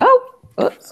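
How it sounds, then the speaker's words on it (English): Greyhound whining in the background, a brief high whimper at the start, followed by a short spoken exclamation. "I'm really sorry for the whiny dog in the background."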